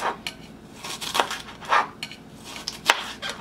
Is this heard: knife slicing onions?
yes